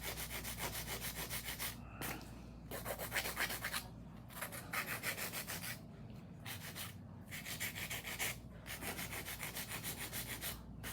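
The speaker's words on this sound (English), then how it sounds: "I'll show you guys a little bit of hand filing technique to make sure that the stiletto stays sharp." Hand filing on the tip of a sharp acrylic stiletto nail, a steady back-and-forth rasping in repeated strokes with short pauses between bursts, close and moderately quiet with no talking.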